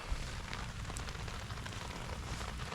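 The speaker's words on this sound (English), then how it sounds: "the weather is getting a little bit lighter, but we still have some rain" Light rain falling outdoors on a golf course makes a soft, steady hiss with faint scattered patter, low and even throughout, with no talking.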